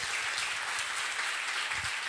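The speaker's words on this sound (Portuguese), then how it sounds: "E você glorifica a Deus bem forte com suas palmas" A church congregation applauds in praise during a service, steady dense clapping heard from a distance, fairly faint and continuous with no talking over it.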